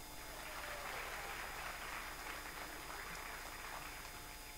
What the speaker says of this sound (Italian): I'd like to insert a round of applause right there.